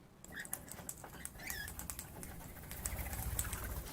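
King parrots and rainbow lorikeets chirp and squawk in brief calls over a busy, scratchy background of rustling and fluttering.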